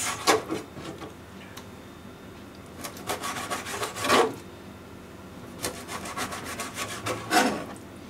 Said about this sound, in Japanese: それでは魚を2センチの幅に切りますね。